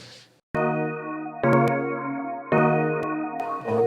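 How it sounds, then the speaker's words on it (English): A sustained, rich synthesized tone from a preset of the iZotope Iris 2 VST sampler plugin, re-struck several times with bright metallic attacks, loud and without talk. "I'm gonna make a beat with a plugin called Iris2 by Izotope. It is a VST sampler instrument."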